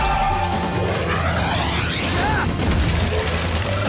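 Cartoon cannons fire frost crawler slugs in a Slugterra battle barrage, a dense, continuous roar of booming blasts and crashes with whooshing streaks that holds loud for the whole stretch.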